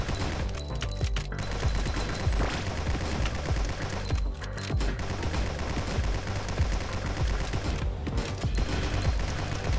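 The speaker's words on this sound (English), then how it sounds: "I suspect that I'm getting a bonus to the AoE of my explosive bullets" Explosive rifle rounds fire in rapid, sustained bursts in the Nimrods game. The dense, loud barrage of shots and blasts runs almost without a break, with brief lulls.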